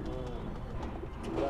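Pigeons coo close by, a champion loft of racing pigeons, their soft throaty calls continuous and overlapping with someone talking over them.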